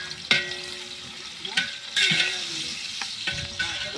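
Onions for a large chicken biryani stirred in a pot, a steady close sizzle punctuated by several sharp metallic scrapes and clinks of the spoon against the pot.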